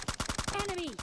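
A rapid burst of automatic gunfire in the mobile battle-royale game PUBG Mobile, about ten evenly spaced sharp shots in one second, with a brief voice sliding over the end of the burst.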